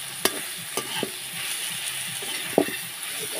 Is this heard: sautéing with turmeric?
yes